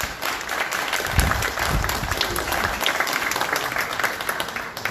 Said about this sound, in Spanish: Ingeniero Manuel Yempén Cornel, para que pida un fuerte aplauso.